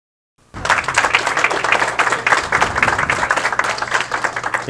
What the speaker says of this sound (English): The applause for Paul Berger